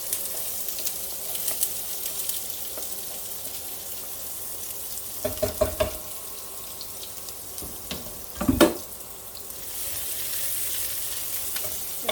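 Onions frying in hot oil give a steady, hissing sizzle throughout, broken by a few sharper clatters and stirring knocks near the middle; no one speaks.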